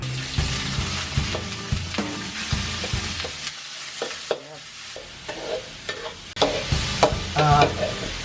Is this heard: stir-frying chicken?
yes